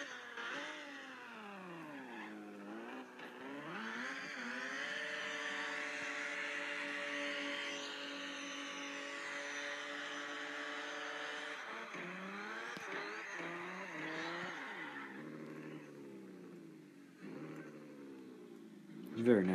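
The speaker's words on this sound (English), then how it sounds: "The engine handles over-revving very well." Car engine in a racing video game revving high and holding near the limit, a loud sustained whine with rising and falling pitch sweeps and brief tire squeal, under quiet background talk.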